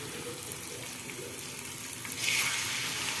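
Spice paste frying in a pan, a continuous close sizzle with stirring scrapes, rising to a louder hissing burst near the end, alone without voices.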